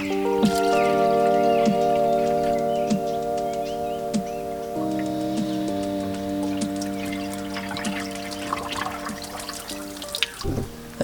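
Rainwater being poured into a car's cooling system, a steady liquid trickle and drip under a loud musical backdrop of sustained tones, with water sounds carrying through to the end.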